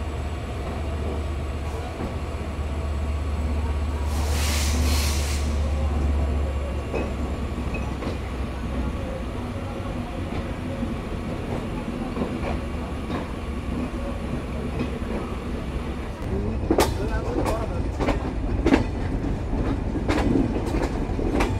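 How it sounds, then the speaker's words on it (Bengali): Kapotaksha Express intercity train pulling out of platform 6 at Khulna railway station, bound for Rajshahi: a steady low rumble builds into a louder, close rhythmic clickety-clack of wheels over rail joints near the end. "আমাদের ট্রেন আন্তনগর কপোতাক্ষ এক্সপ্রেস ডিপারচার নিচ্ছে বিভাগীয় রেলওয়ে স্টেশন খুলনা জেলার খুলনা রেলওয়ে স্টেশনের"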